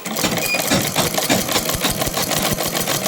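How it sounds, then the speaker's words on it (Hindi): A sewing machine stitches a neck strip onto a kurta, running in a fast, steady mechanical chatter of rapid needle strokes. It is loud and continuous, heard close up with no talking. "इसको हम ऐसे रख के, ये कम ये ज़्यादा, तो इधर ज़्यादा इधर कम, ऐसे करके इस तरह से रख के ऐसे सिलाई करते हैं"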